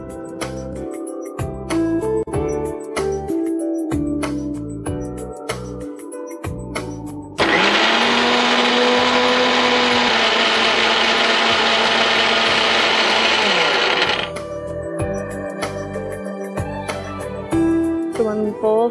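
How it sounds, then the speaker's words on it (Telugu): A mixer grinder blends a curd smoothie in a kitchen, a loud, steady whirring roar that runs for about seven seconds, with light background music before and after. "ఇప్పుడు మనం దీన్ని మిక్సీ పట్టేసుకోవాలి"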